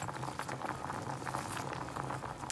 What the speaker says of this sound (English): we have our potatoes boiling